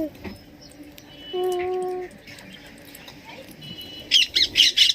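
Parrots give several loud, harsh squawks in quick succession as they take flight, preceded by a quieter stretch with a steady tonal call and faint bird sounds.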